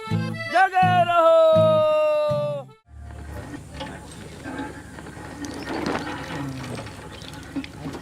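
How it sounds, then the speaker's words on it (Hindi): A village hand pump is worked while water gushes out, preceded by a sustained tonal squeal; after a sudden break, splashing, pattering flow continues with creaks and scattered background noises at moderate loudness. "अच्छा पानी आ रहा है।"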